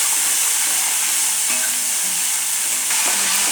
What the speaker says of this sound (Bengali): এবার মশলাটাকে আমি একটু ভালো করে কষিয়ে নিচ্ছি